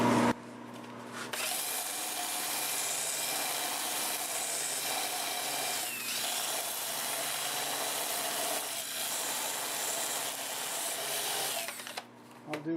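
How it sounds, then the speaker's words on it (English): Sanding on turned firewood with a Sandiflex abrasive block, a steady rasping rub over the whirr of the spinning lathe that runs almost the full length and stops near the end. "But first I'm going to sand this area with the Sandiflex."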